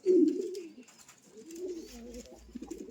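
White pouter pigeons in a pigeon loft cooing in soft, throaty, rolling phrases, close and fairly quiet, with a few faint higher chirps in the background.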